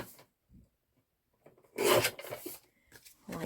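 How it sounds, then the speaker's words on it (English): A paper trimmer slices along card edges with a quiet rasping scrape, a few short soft strokes close by with pauses between. "Just trim those on my trimmer."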